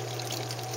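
Water pours steadily through a clear bell siphon with small drilled holes, a continuous close trickling rush with no voices.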